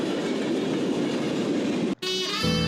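Freight train 19G pulled by five engines rolling past close by, a loud continuous roar of wheels and wagons that cuts out abruptly, followed by a brief tonal blare like a horn.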